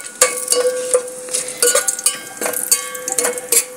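Bay leaf, cardamom, cloves and cinnamon are stirred in a pan for Bengali yellow pulao: sharp, ringing metal clanks at an uneven pace over a faint sizzle, close up and without talk.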